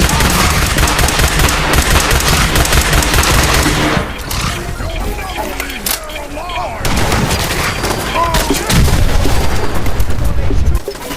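Dense, loud gunfire from a fight against raiders and a super mutant in the video game Fallout, with rapid bursts and heavy shots going almost without pause.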